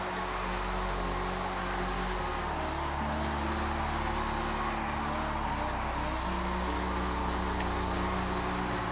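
Tires sliding as a car drifts in the video game Forza Horizon 6, a continuous loud engine roar with shifting pitch and hissing skid noise throughout, no voices.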